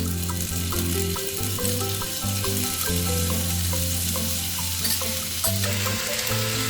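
Yakisoba noodles with pork belly and yakisoba sauce fry in a hot pan, a steady loud sizzle broken by scraping stirs and a few clinks, with no voices.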